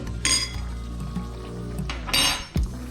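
Cooked salmon with vegetables in mushroom soup sauce clinks and scrapes as it is spooned into a bowl, two brighter clatters of utensil against dish standing out over a low background hum.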